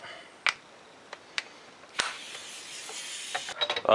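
A 1.25-inch socket on a Polaris On Demand drive gives sharp mechanical clicks and ticks, then a longer ratcheting rasp and a final flurry of quick clicks, close and clear in a quiet space.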